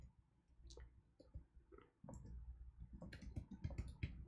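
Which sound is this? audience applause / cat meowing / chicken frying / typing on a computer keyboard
typing on a computer keyboard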